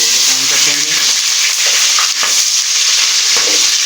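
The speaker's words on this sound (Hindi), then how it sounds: "तो अभी हम जिस कुकिंग ऑयल में हमने चिकन ब्राउन किया था, तो उसी में हम प्याज डाल देते हैं।" Onions dropped into hot cooking oil left from browning chicken, frying with a steady loud sizzle and occasional stirring clatter throughout.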